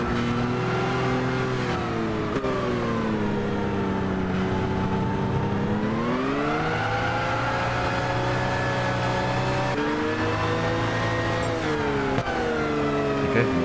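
A car engine in the Gran Turismo 6 racing game drones steadily through a driving lap, its pitch rising and falling with repeated gear shifts and revs, loud and continuous with no talk.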